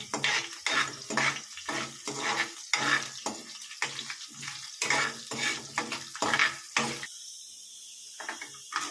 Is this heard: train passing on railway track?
no